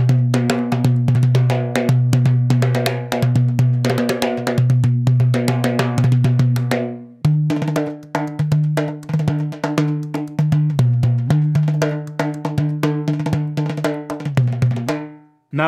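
A Keytam drum is played by hand with djembe and derbuka techniques, producing a fast, dense stream of ringing, pitched metallic strokes with deep tones, briefly pausing midway before resuming the rapid rhythm, loud and close.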